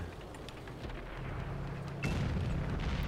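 A tank cannon shot landing as a miss in World of Tanks, a deep rumbling boom over steady engine and battle noise, then a heavier surge of low rumble near the end.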